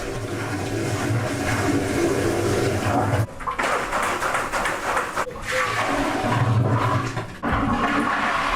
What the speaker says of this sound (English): takes the opportunity to empty one of our liquids tanks in the Elsan